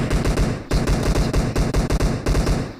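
Automatic gunfire from PUBG Mobile rattles in rapid, loud bursts, with one brief pause between strings of closely spaced shots.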